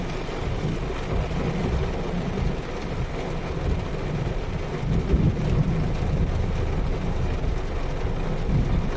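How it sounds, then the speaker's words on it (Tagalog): Heavy rain pours in a dense, constant roar with low thunder rumbling underneath, steady and close, with no voices, during a storm with lightning and flooded, traffic-jammed streets. "Ang lakas ng ulan. Matakot yung kidlat at saka kulog."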